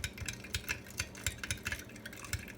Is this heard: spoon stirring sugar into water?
yes